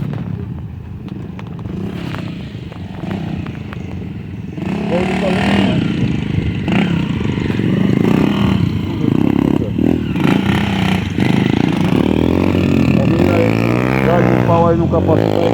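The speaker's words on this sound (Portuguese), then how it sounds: "É a trilha de moto, é tradição daqui da Barra de São Miguel" Motorcycles on a traditional motocross trail ride at a festival in Barra de São Miguel, engines revving loudly and continuously close by with rising and falling pitch, amid crowd noise and people talking.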